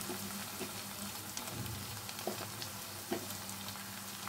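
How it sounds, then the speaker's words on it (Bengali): Onion and chopped tomato fry in a pan for a chicken Mughlai curry, giving a faint steady sizzle with a few soft spatters and light stirring taps. "পেঁয়াজটা একটু ফ্রাই হয়েছে আরও হবে। এর মধ্যে আমি দিয়ে দেবো একটা গোটা টমেটো"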